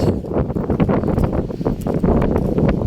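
Steady outdoor wind buffets the microphone beside a river at a relaxing spot in Limpapa, a continuous rushing roar with gusty swells and low rumble throughout, no voices present.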